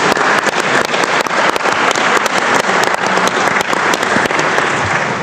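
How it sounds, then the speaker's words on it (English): An audience at a security and artificial intelligence conference claps for the speakers, a dense continuous round of applause from many hands that holds steady and loud throughout. "please, let's give them a round of applause now"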